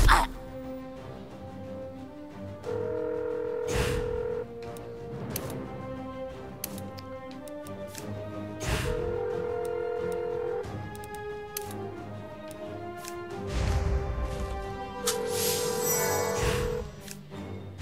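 A telephone rings in South Park: The Stick of Truth, a repeating electronic tone in several bursts set among clicks and game sound effects, moderately loud and without speech.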